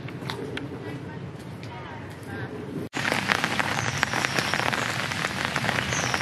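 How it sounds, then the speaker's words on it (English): Steady heavy rain pours onto a lake during a carp fishing trip in Belgium, a dense hiss that grows louder after a brief break, with people talking quietly beneath it. "All it's done is rain."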